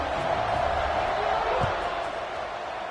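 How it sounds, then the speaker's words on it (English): A college football stadium crowd at UTSA versus Western Michigan buzzes after a score, a dense, steady roar of many voices with a voice talking over it. "this crowd is buzzing after that last score"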